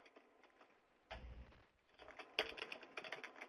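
Soft computer keyboard typing in quick irregular clusters, close and fairly quiet, with a few louder bursts of keystrokes and no speech.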